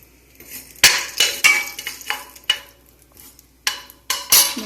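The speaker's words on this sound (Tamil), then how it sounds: "கடுகு வெடிக்கட்டும்." Mustard seeds splutter in hot oil with sharp, irregular pops and crackles over a faint sizzle, some bursts loud and close.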